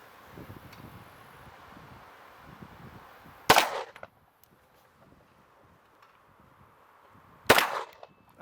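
A German WWII 9mm firearm fired outdoors, with two sharp, loud single gunshots about four seconds apart, each followed by a brief decay over light wind noise.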